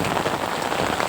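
Heavy rain pours down outdoors, a dense, steady hiss of drops pattering on surfaces nearby, continuous and loud across the brief moment.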